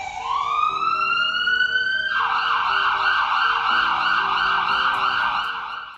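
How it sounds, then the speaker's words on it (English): An ambulance siren wails loudly nearby, first a rising tone, then a rapid warbling yelp that continues steadily. "I was getting a bit worried there when I heard that siren."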